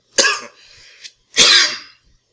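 Two sharp coughs close to the mic, separated by about a second, with a faint throaty sound between them.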